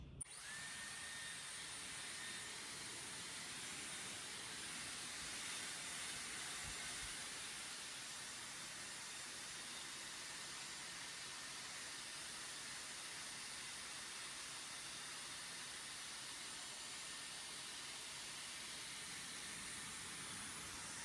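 Dyson Airwrap hair styler blowing hot air while curling a section of curly hair, a steady broad whoosh with a high whine that runs unbroken, loud and close, for about twenty seconds with no talking.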